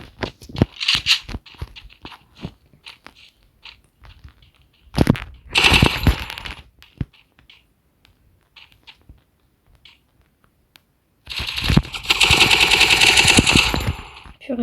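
Shotgun and submachine gun fire in a video game match, scattered rapid shots early, a sharp burst around the middle, then a loud sustained stretch of automatic fire near the end, separated by quiet gaps.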